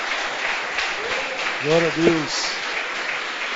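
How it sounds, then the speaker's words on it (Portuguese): A congregation at a church service clapping hands steadily, forming a continuous wash of applause while a voice speaks briefly over it. "Glorifica Jesus com as palmas."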